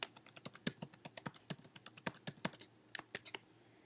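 Quick clicking keystrokes on a computer keyboard run in a steady patter as a username and password are typed, close and quiet with a short pause near the end.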